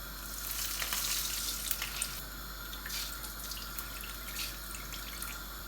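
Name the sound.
cumin seeds frying in a pan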